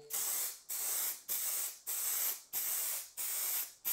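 An aerosol can sprays cellulose sanding sealer onto a wooden table in seven even, steady hissing bursts, each about half a second long with brief gaps between, close and fairly quiet with no talk.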